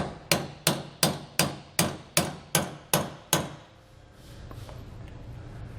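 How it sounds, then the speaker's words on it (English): Eight evenly spaced, sharp hammer taps drive a serrated bolt into a Dexter E-Z Flex suspension kit on a 2017 Grand Design Reflection trailer, ringing close and loud, then fading into a low background hum. "we'll use our hammer to just tap it in because it's got the serrated ends there"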